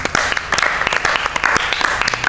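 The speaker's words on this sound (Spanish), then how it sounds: "Un aplauso para ellos también." Brief audience applause in an indoor gathering, a short burst of scattered hand claps with distinct individual claps standing out over a soft crowd wash.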